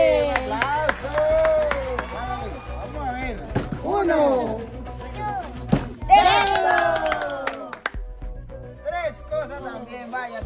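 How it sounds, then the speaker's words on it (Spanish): A group cheers, shouts and claps during a bottle-flip game played for school supplies. Excited voices rise and fall, with scattered bursts of clapping and a few sharp knocks mixed in. "Tres, un aplauso."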